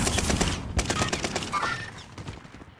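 Rapid gunfire bursts from Call of Duty Warzone, several sharp volleys in the first two seconds, close and loud, then thinning out, with game ambience around it.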